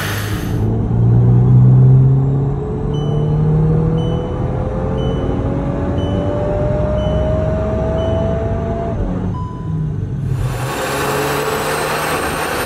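A VW Mk8 Golf R fitted with an upgraded intercooler is run on a dyno, its engine droning loud and close as the revs climb steadily through a long pull before cutting off sharply, then picking back up.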